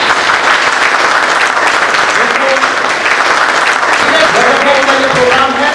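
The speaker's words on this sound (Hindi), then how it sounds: "एक जोरदार ताली से स्वागत किया जाएगा" Loud, sustained clapping from an audience welcoming the host of a crypto company meeting, a dense even wash of applause with faint voices underneath.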